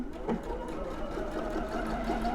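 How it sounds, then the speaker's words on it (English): A Pfaff Creative Icon 2 sewing machine runs a straight stitch at a slowed speed, its needle mechanism giving a steady, close, rapid whirring rhythm. "I'm just going to pop my presser foot down, and I'm going to start sewing"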